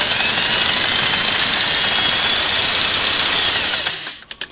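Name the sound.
Singer 401A sewing machine sewing fast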